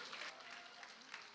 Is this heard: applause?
yes